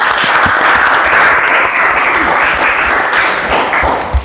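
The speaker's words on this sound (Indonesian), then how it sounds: "Oke, beri aplaus." An audience in a classroom setting applauds steadily, a dense sustained wash of clapping hands that holds for about four seconds before tapering at the end.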